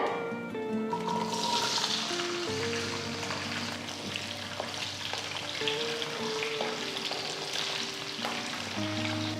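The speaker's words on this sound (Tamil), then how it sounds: "கடுகு பொரிய ஆரம்பிச்சிருச்சு நான் இப்போ மெதுவாக இந்த சின்ன வெங்காயத்தை முழுசாகவே போடுறேன்" Whole shallots drop into hot oil with mustard seeds already popping for sambar, giving a steady close sizzle with light crackles and stirring noises throughout, alongside a faint tonal background.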